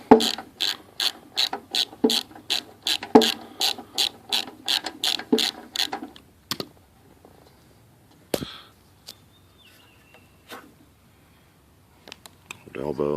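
Ratchet wrench with a half-inch socket working on a Briggs and Stratton lawn mower engine, clicking in a steady rapid series of close, crisp strokes for several seconds, then isolated clicks and small handling sounds.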